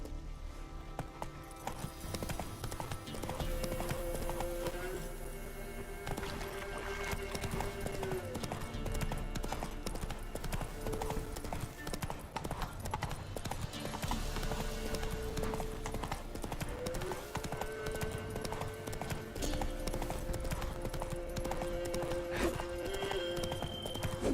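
Roach the horse in The Witcher 3 trots along with steady, rhythmic hoof clip-clops that carry through the whole stretch over a dense bed of game music and ambience, with the occasional snort.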